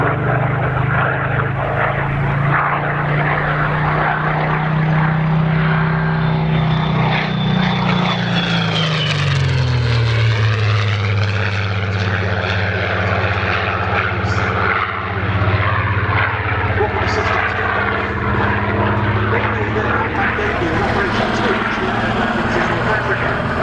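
A Seafire F.Mk.XVII propeller fighter passes at an air display at Old Warden, its engine drone loud and continuous, rising and falling in pitch as the aircraft flies by.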